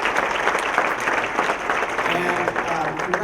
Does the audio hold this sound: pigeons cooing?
no